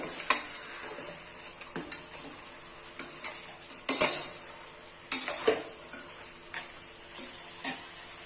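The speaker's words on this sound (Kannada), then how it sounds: "ಮಟನ್ ಅರಿಶಿನ ಮತ್ತೆ ಈರುಳ್ಳಿ ಚೆನ್ನಾಗಿ ಫ್ರೈ ಆಗ್ಬೇಕು." Mutton with turmeric and onion frying in a pan, with a spoon repeatedly stirring and clinking against the metal over a soft sizzle, in a quiet close setting with irregular scraping bursts.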